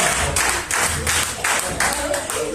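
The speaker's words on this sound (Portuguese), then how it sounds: "Recebe essa beleza, igreja, com as palmas bem alegres para Jesus, igreja." A church congregation claps joyfully in a steady rhythmic pattern, with regular bursts of hand claps roughly every third of a second, fairly close and loud, with voices mixed in.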